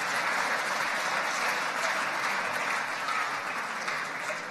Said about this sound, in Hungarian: Egy nagy tapsot kérek az alkotóknak.